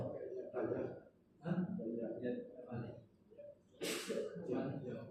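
A single sharp sneeze bursts out near the end of a stretch of steady speech in Indonesian and Arabic during a group book-reading lesson, with talking continuing right after.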